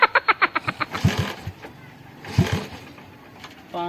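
A motorcycle engine being started in a Sindhi street scene: a fast run of sputtering cranking pulses that fades, a couple of louder bursts with noise, then a steady idle note kicking in at the end.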